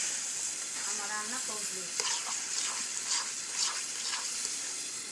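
Chicken and pumpkin curry frying in a pan while being stirred: steady bright sizzle with repeated scraping stirs of a spoon, someone speaking briefly near the start.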